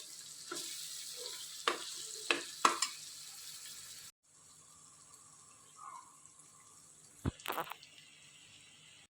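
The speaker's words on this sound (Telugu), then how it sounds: "ఒకసారి మొత్తం కలుపుకుందాం." A spiced tomato rice mixture with chili powder and coriander is stirred in a pan, giving soft sizzling and several scraping, knocking strokes, then a quieter stretch with a few more stirring clatters.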